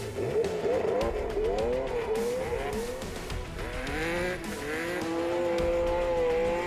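A Porsche rally car at the 2023 Classic Safari struggles to get moving again on a difficult stage, its engine revving loudly and repeatedly in rising and falling pitch sweeps, with tyre noise close by.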